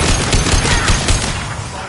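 Gunfire in the video game Mass Effect 2 fills a dense, loud firefight, with rapid overlapping shots and bursts forming a continuous roar, and shouted combat voices mixed in.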